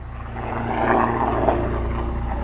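A helicopter flies overhead, a steady low rumbling drone that swells slightly at its loudest before easing, heard alone without talk.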